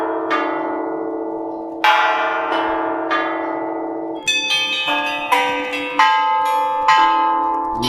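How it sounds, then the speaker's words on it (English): Federation Bells in Melbourne rung from a phone app, a series of bright, sustained bell strikes layering into a ringing chord, with a denser cluster of quicker overlapping tones in the second half, loud and clear without talk. "Federation bells. How do we play them?"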